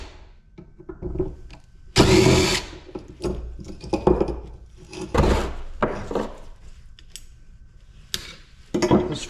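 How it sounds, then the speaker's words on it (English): A security bit works screws out of an HVAC unit in bursts of scraping, grinding and clattering metal, with sharp clanks and handling noise between short quiet gaps, close by. "Let's start taking some screws out here."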